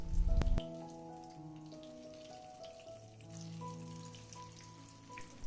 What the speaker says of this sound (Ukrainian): Обсмажую з одного боку до золотавої скоринки та з іншого.